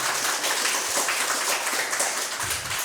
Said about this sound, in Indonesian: tepuk tangan dulu atau PMQ